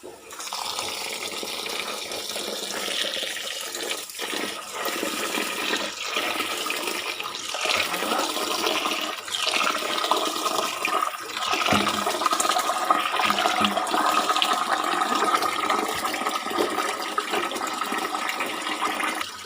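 Water runs steadily for about twenty seconds while rice and lentils are washed together for khichuri, with splashing and sloshing throughout and no talk.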